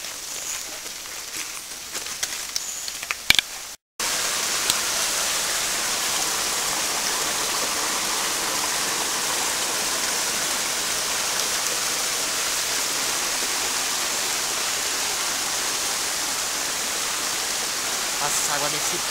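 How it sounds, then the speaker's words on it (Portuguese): Rushing water from a stream on a cycling trail, a steady broadband wash that runs loud and continuous after a brief break near the start, with faint voices mixed in early on. "Tem barulho de água já, hein?"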